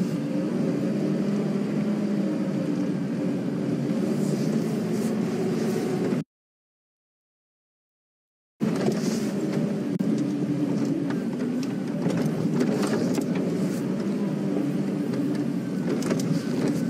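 An open safari vehicle driving quickly through the bush at sunrise, with a steady rumbling engine and wind noise close by, cut off by a short gap of silence before the driving resumes.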